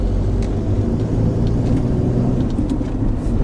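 A manual-transmission car engine blips its revs to match a downshift, a steady low rumble that swells slightly, heard close and continuous with no talking.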